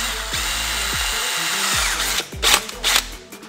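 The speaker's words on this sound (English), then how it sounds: "I'm just gonna drill down into it here slowly" Electric drill boring slowly into a carbon rear diffuser on a BMW F30, a steady close whine with repeated brief dips and spin-ups, ending in short bursts.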